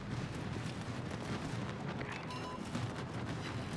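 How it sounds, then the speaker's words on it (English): Anti-aircraft guns on a warship in the World of Warships video game rattle in a dense, continuous barrage of rapid booms and pops over a deep rumbling background. "My AA will automatically start shooting at that."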